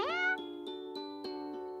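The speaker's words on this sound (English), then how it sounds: "We're getting the meow song a whole lot now." A cat meowing song plays in Purrfect Date, a sung tonal meow opening into a looping melodic jingle with light rhythmic ticks, clear and alone.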